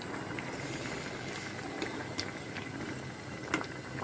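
Rice cooking with potatoes and plenty of green chilies in a pot, boiling with a steady bubbling simmer close by and a few small pops and clinks, no talking.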